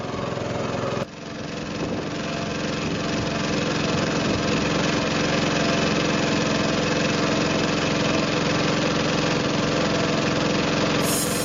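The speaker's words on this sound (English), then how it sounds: "This is our next mode of transportation, little motor scooters." A small motor scooter engine runs in Myanmar, a loud steady buzzing drone that starts abruptly and holds constant near the listener, with no speech.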